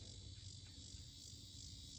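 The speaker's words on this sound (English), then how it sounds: "Oh, you can hear the cicadas too." Cicadas droning in a steady, unbroken high buzz beside the Missouri River at a campsite, continuous and fairly even in loudness, with no talking over it.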